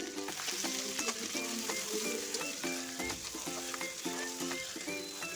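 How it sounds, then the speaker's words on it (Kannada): Potatoes sizzle steadily in oil in a frying pan, a continuous close crackle with faint scraping of a spoon stirring through it, no voices. "ಬಟಾಟ ಸ್ವಲ್ಪ ಫ್ರೈ ಆಗಲಿ ರೀ"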